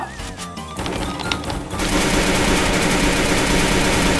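Dense automatic gunfire in a video game, first sporadic, then a continuous loud rapid stream of shots filling the last few seconds, with no talk over it.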